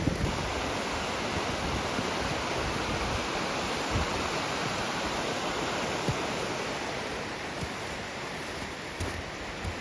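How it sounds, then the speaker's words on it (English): A farm brook flows in winter, a steady dense rush of water that stays loud and even throughout, mixed with some wind noise on the mic and no speech. "Just walking along the side of the brook here."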